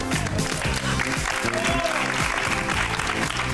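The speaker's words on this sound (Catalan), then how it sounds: "aquest aplaudiment és perquè llegeixes molt bé la Viquipèdia" Studio audience applauding on a Catalan television show, a dense, loud, steady wash of clapping that carries through the whole stretch, with faint voices mixed in underneath.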